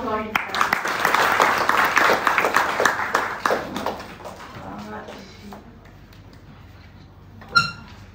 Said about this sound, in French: veuillez les applaudir encore une fois